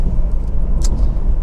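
Honda CR-V 2.2 i-DTEC diesel engine running, a close, steady low rumble from inside the car with a brief faint click partway through.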